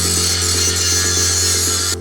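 A power grinder works a steel beam on a home building site in Central America, a loud steady whine with a low hum underneath and a rapid rhythmic rasp, cutting off abruptly at the end.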